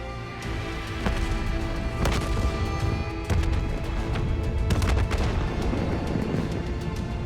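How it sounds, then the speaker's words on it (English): Explosions going off across a facility in the 2015 video game Call of Duty: Black Ops 3, a series of heavy booms and crashing impacts over a constant rumbling din, loud and close, with no voices. "Hendricks, we have multiple explosions across the facility."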